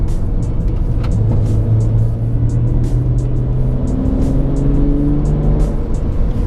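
A tuned BMW 335d diesel engine revs upward through gears, its pitch rising steadily under a constant loud road and wind roar, heard from inside the car.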